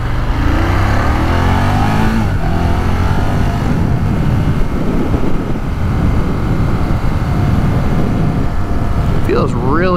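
Ducati Monster 1200 engine rumbles loudly while riding on a back road, a steady roar under wind noise with a brief rising whine near the end.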